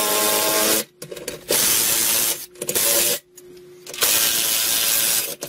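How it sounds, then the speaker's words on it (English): A power drill drives bolts into a wall to mount a P90X wall pull-up bar, sounding as several loud, sustained whirring bursts separated by short pauses, with no talking. "if you have a drill like this, it's much quicker."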